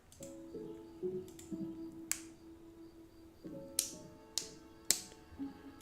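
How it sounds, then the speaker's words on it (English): Sharp pen clicks, several crisp single snaps spaced irregularly, heard close over soft background music with sustained tones. "Okay, I should stop clicking my pen."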